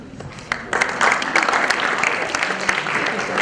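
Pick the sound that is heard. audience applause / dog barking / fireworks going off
audience applause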